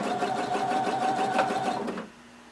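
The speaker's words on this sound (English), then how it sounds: "we're going to be sewing about 1/8 of an inch away from the folded edge" Sewing machine running steadily, stitching about an eighth of an inch from a folded fabric edge while sewing a front overlay for a Simplicity pattern 1116 garment; a continuous close whirring hum that stops abruptly near the end.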